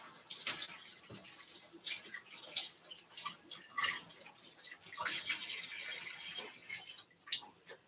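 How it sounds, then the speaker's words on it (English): Water runs from a tap while a cooking glove is rinsed beneath it, a steady broadband splash with uneven surges and brief dips, fairly quiet and without talk. "just gonna wash off the glove a little bit"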